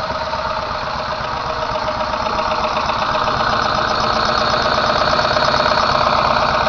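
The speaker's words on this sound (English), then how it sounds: "ran my geet fuel reactor for a half an hour. And mowed part of my lawn with it." A lawn mower engine runs on a GEET fuel reactor. The close, loud, steady idle chugs with a rapid knocking pulse, alone and without talking.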